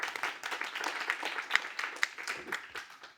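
Audience applause in a full masterclass hall, a steady patter of many hands clapping with a few sharper claps standing out, sustained throughout at moderate volume.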